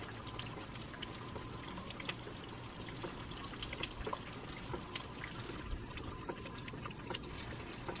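Rainwater pours and trickles steadily outdoors after wet weather, a faint continuous splashing with small droplet spatters throughout and no voices.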